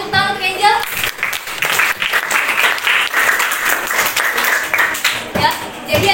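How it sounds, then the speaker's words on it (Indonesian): A short burst of classroom clapping by students with a teacher's voice speaking over it at the start and again near the end. "Oke, terima kasih, tepuk tangan untuk Angel."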